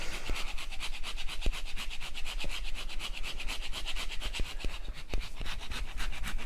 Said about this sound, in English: Now I'll just grate some of this cheese.